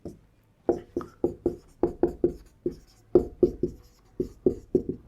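Prime factors being written by hand, with quick scratchy pen strokes coming in short rhythmic bursts and brief pauses between them, close and clear with no talking.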